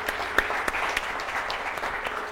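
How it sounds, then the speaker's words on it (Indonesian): Audience at a basic audio training session applauds to welcome a speaker onstage, moderate steady clapping with a few sharper distinct claps standing out, fairly quiet overall. "kita sambut dengan tepuk tangan"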